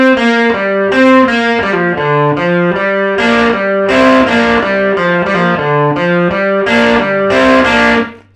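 Distorted electric guitar with effects plays a blues lick with sliding notes moving between positions, a steady phrase of bright repeated notes lasting about eight seconds before cutting off.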